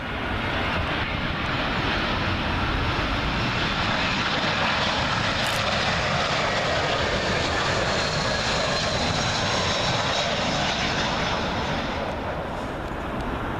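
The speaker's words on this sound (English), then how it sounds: "Next up, British Airways A320, arriving from Lyon." A British Airways Airbus A320 arriving from Lyon comes in to land on runway 27L at Heathrow, its engines a loud, continuous broadband roar that stays close and steady throughout, with no voices.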